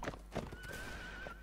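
A horse in a video game gives a short neigh with clip-clop hoofbeats underneath. The whinny is clear and fairly near, with no talk over it.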